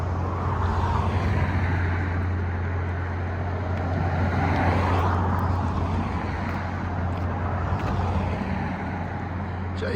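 A sports car with a holed exhaust passes on a nearby road outside a coal mining museum, a steady loud rasping drone rising and easing over several seconds with no talk.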